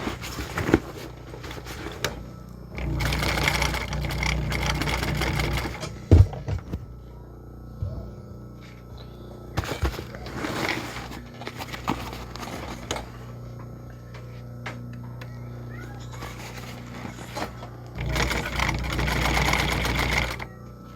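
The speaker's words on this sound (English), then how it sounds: "So I'm sewing a square, and then I'm going to sew an X inside the square." A sewing machine stitches a replacement strap onto a bag in an X-in-box pattern, running in loud mechanical bursts of several seconds separated by quieter pauses, close up with no talking.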